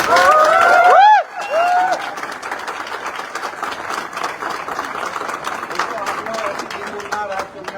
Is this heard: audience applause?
yes